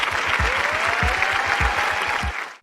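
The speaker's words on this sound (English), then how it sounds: "And the crowd goes wild after he says" A large crowd roars with cheering and applause in one loud, dense, unbroken wash, with rhythmic low thumps underneath, cutting off abruptly near the end.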